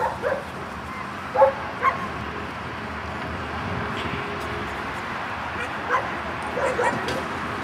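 A spirited female puppy, four to six months old, barking and yipping in a dog show ring, a few short sharp barks and whimpers over steady crowd and ring noise.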